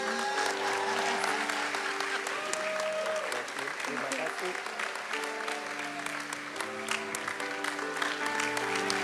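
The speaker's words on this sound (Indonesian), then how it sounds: "Berikan tepuk tangan dong buat Oslin dong." Sustained applause from a large church worship crowd, steady and dense throughout, with a voice and some musical tones faintly underneath.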